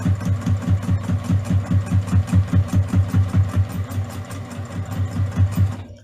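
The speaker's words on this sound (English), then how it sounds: "Love my sewing machine." A Juki TL2010Q sewing machine runs steadily, its needle stitching in a fast, even rhythmic chatter that stays close and loud before stopping abruptly near the end.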